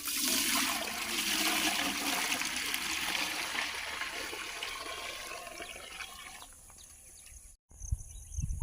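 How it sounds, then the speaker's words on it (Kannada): Water streams steadily into a cooking pot in a village kitchen for boiling chickpeas for sambar, a loud continuous gush that thins and stops near the end. "ಕಾಳು ಬೇಯಿಸ್ಕೊಳ್ಳೋದಕ್ಕೆ ಪಾತ್ರೆಗೆ ನೀರು ಹಾಕ್ತಾ ಇದ್ದೀನಿ."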